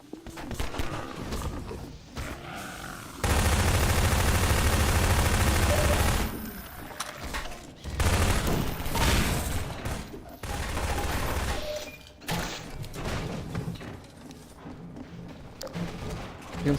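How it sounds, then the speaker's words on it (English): Dense bursts of automatic gunfire and rocket blasts fill a Half-Life 2 co-op match in Synergy as players fire rockets at Striders, with a long sustained barrage followed by shorter volleys and scattered shots. "Everyone's shooting rockets at Striders."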